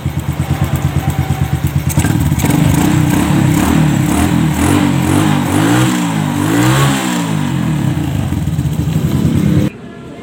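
A Suzuki Shogun 125R motorcycle, running again after a dead CDI unit was replaced, idles loudly up close with a rapid putter, then revs up and down in several swells before abruptly cutting off near the end.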